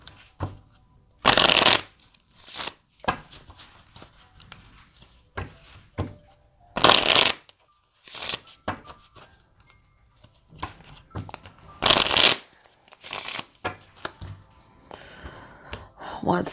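Tarot cards are shuffled in repeated loud riffling bursts, separated by softer taps and handling noises, with a voice talking faintly in the gaps.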